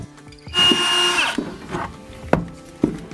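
A power drill removes screws from an old kitchen range hood, giving one loud, close whirring burst of under a second, then short scraping and clunking handling noises.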